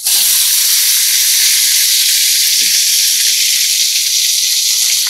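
Potatoes dropped into hot oil for an Ekadashi dish, a loud, dense, hissing sizzle that holds steady throughout, close up and alone.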